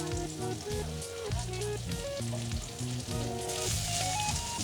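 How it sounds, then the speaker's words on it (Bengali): Dried fish (shutki) fries in a pan at home with a soft, steady sizzle, largely covered by louder melodic background music. "একটু ভালো করে ভেজে নেবে এগুলো"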